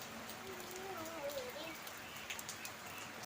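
Rain falling steadily on surfaces nearby, a continuous soft hiss with scattered drop ticks, fairly faint, with a faint bird call in the background.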